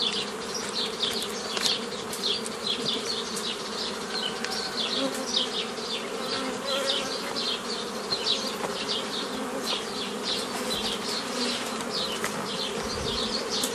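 Honey bees at a beehive in an apiary where nucleus colonies are being formed, producing a dense, steady buzzing swarm sound with many individual insects zipping past close by, continuous throughout with no talking.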